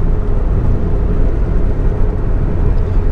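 Ford Fiesta Mk5 Zetec-S on a country road through British countryside, with a steady, continuous engine and road rumble heard from inside the car, holding an even level throughout.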